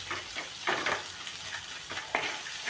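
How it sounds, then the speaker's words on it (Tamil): Onions and tomatoes sautéing for a sankara fish curry, a continuous close sizzle in the pan with a few stirring scrapes and bursts of stronger crackle. "வெங்காயம் தக்காளி ஓரளவுக்கு வதங்கிடுச்சு"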